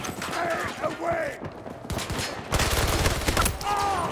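Gunfire in Battlefield 2042 crackles in loud, rapid bursts and volleys, close and dense, with shouted voices over it in a team firefight.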